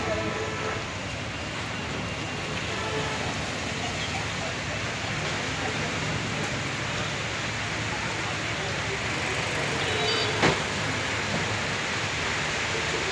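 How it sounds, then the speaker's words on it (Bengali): Heavy rain pours down at the Companiganj bus terminal in Comilla, Bangladesh, in a steady, dense hiss that stays loud and unbroken throughout, with no voices. "বৃষ্টিটা কমে গেছিল এখন কিন্তু আবার বৃষ্টিটা বেড়ে যাচ্ছে"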